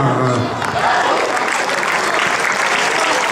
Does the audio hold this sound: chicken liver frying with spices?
no